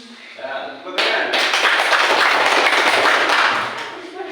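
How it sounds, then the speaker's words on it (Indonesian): Classroom applause, a burst of many hands clapping that starts abruptly, holds loud and steady for a few seconds, then fades, with a voice heard faintly before it. "Ya, tepuk tangan."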